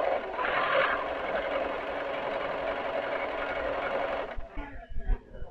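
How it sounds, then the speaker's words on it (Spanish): A Singer 6160 electronic sewing machine, freshly oiled, stitching scrap fabric: a close, steady mechanical whir for about four seconds, then stopping, followed by a few soft clicks and handling knocks. "hay que coser en una tela que no vale, para que el aceite pase"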